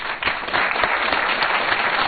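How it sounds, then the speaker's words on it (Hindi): Studio audience at a televised show bursts into steady, dense applause, many hands clapping loudly and evenly throughout with no gaps. "तालियों को जरा रोक के रखिए"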